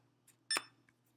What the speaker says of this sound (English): and you're going to hear a beep.